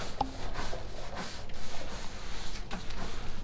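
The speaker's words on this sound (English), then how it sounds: "knocking all this loose paint" Steady scraping and rubbing of loose paint off a boat's bridge deck, close and continuous, with a few sharper strokes standing out.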